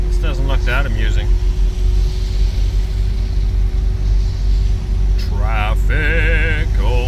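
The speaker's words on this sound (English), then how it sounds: "Traffic, only traffic, bumper to bumper, not going nowhere." Bumper-to-bumper city traffic gives a steady, close low engine rumble that holds for the whole stretch, with voices talking over it at the start and end.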